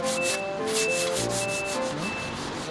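Sandpaper rubs back and forth in steady, rhythmic strokes, close and loud, continuing throughout with no talk.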